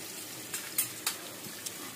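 Potato peels seasoned with salt, turmeric and chili powder fry in a pan, giving a faint, steady sizzle broken by a few soft clicks of a stirring utensil against the pan.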